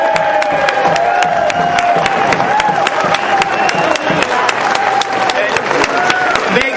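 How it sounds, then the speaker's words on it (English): An indoor audience applauds legislators with sustained clapping and scattered cheers, loud and dense throughout, while a voice carries on over the crowd. "give a round of applause to the legislators that are here today"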